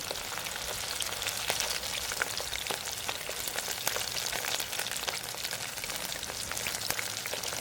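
Steady crackling sizzle of vegetables frying in hot oil for Tamil kovakkai poriyal, continuous dense popping and spattering throughout, close by with no voices.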